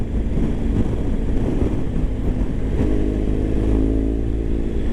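A motorcycle rides along a road near Hua Hin, its engine droning steadily under wind buffeting, close and continuous with no speech.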